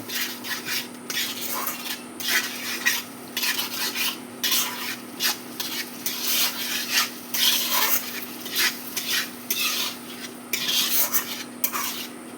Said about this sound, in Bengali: সর্ষে পোস্ত বাটাটা দিয়ে 1 মিনিট কষে জল ঢেলে দেব